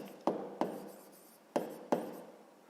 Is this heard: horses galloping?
no